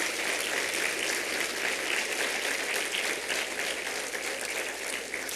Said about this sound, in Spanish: ¿No le dan un aplauso al Señor por esa noticia?